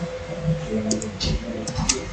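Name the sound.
typing text on a computer keyboard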